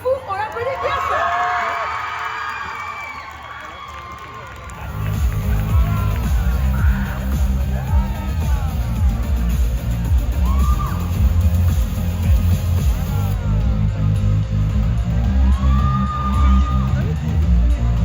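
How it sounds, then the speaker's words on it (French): A crowd at a cosplay contest stage cheers and whoops for a performer, loud at first and then dropping as a voice starts talking over steady room noise. "On l'applaudit bien fort."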